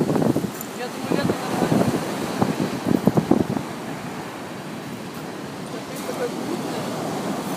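Winter waves of the Tyrrhenian Sea rolling onto Ostia beach near Rome, a steady surf wash with wind buffeting the microphone, briefly louder early on, while people talk nearby.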